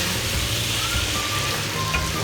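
Ginger garlic paste frying with chicken in a karahi: a steady, dense sizzle and crackle of hot oil, close and continuous throughout.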